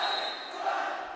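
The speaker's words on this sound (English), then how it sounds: "The whole crowd is yelling out how many service errors they have." A volleyball crowd in a college gym shouts in unison, a dense, steady wall of voices counting out the serving team's errors during a tight fifth set.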